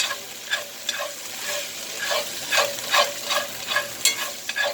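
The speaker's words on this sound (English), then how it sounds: "It's the onions I want to caramelize down." Onions frying and being stirred to caramelize for a chicken pot pie, a steady close sizzle broken by repeated scraping strokes of a utensil across the pan.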